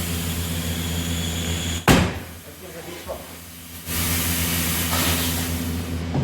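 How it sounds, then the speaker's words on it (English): A tire changer machine's bead breaker arm contracts with a sudden pneumatic hiss and thump after a steady machine hum, followed by quieter air release before the steady running noise returns, close and loud. "Just put your bead breaker at the edge. And I'm going to press the middle pedal here. Going to contract the arm."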